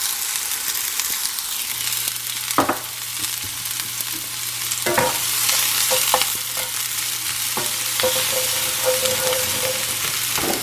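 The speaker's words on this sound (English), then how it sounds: "I have a skillet warming over here with some olive oil in it. Just, I want to sear these onions." Onions searing in olive oil in a warm skillet give a steady close sizzle, with occasional clinks and scrapes of stirring.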